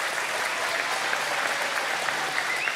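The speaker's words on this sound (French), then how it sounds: "on peut l'applaudir" Studio audience on a French car show applauds a lap time with a steady, even wash of clapping that holds at a constant level throughout.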